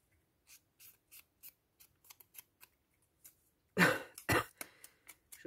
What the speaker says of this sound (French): Je tousse un petit peu là.